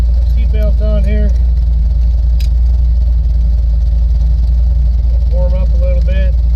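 A 5.3 LS V8 swapped into a Jeep Cherokee idles while warming up, a loud steady low rumble running throughout, with someone speaking briefly over it at the start and end.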